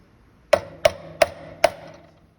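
Four crisp, evenly spaced taps from a hammer striking a chisel into timber to recess a butt hinge, close and clear with short ringing decay.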